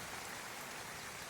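Steady rain falls on a surface during a tabletop role-playing game session, a dense, even hiss of drops holding at a constant level with no voices over it.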